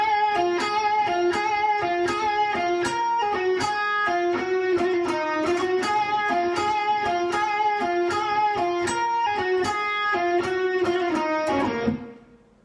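A bright, distorted electric guitar plays a quick, repeating phrase of picked notes over a steady beat, then stops abruptly.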